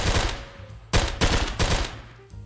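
Bursts of video game gunfire crack out in a fast exchange during a special ops team match, several loud broadband volleys and rattling shots packed into a couple of seconds, with no voices over them.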